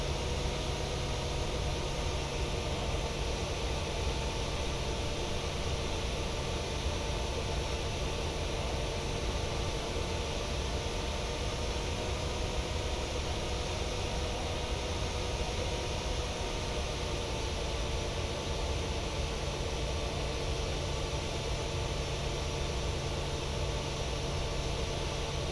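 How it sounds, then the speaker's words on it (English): Airliner engines of a Jeju Air jet in Flight Simulator 2020 hum as a constant, even broadband roar with a steady tonal whine, unbroken and alone for the whole stretch. "Engines are running"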